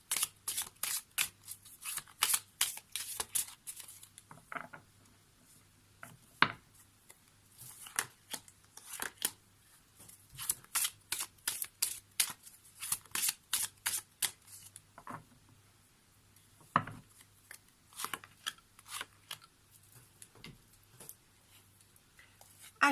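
Tarot cards riffle and slap together in quick clustered bursts close by, with short pauses between shuffles and a low background hum.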